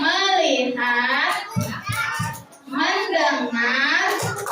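Young children at an Islamic school's Maulid Nabi celebration clap in quick bursts while chanting together in unison, their voices loud and close, with the claps falling in short rhythmic groups between the chanted lines.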